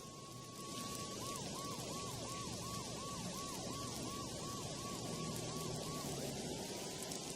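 A police siren in the video game Max Payne 2 wails in a steady, rapid up-and-down cycle over a constant rumbling background, then trails off near the end.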